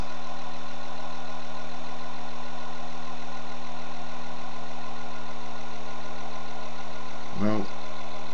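A small engine tied to a TeslagenX experimenter kit idles steadily at a low 400 RPM, giving a continuous even hum with stable tones, and a brief louder knock near the end.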